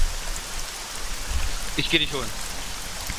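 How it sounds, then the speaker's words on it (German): Rain falls in the ARMA 3 video game as a constant soft hiss of drops, while someone speaks briefly over it. "Der Regen gefällt mir ja wirklich gut."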